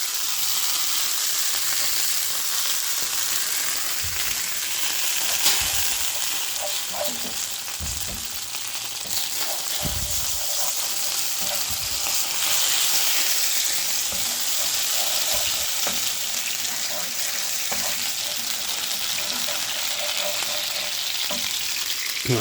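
Margarine and sugar sizzle steadily in a hot frying pan while toffee is being made, a continuous close frying hiss with occasional stirring knocks and no talking.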